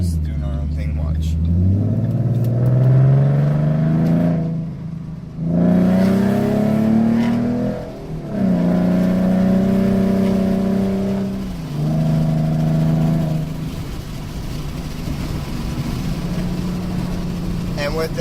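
A 2013 Ford Mustang V6 with an MPT tune pulls away hard, its engine note climbing through several gears in repeated rising sweeps, loud and close, with people talking over it.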